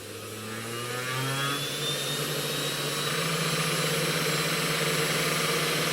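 A DIY mini CNC spindle fitted with a burr spins up and keeps running, a steady high whine with a rough, buzzing vibration that holds for several seconds.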